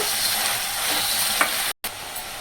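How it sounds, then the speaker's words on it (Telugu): Large prawns frying in a pan, with a dense, even, close-up sizzle throughout and a faint scrape near the end. A brief dropout of silence occurs about two-thirds of the way through, and no one speaks. "రొయ్యలు అనేవి గోల్డెన్ ఫ్రై కలర్కి వచ్చేంత వరకు ఫ్రై చేయాలి"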